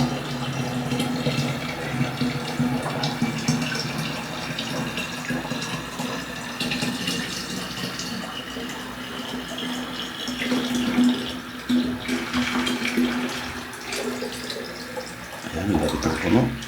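Tap water runs steadily into a container, a continuous close splashing stream with occasional faint voices.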